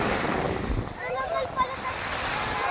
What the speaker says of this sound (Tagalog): Sa tabing dagat na po tayo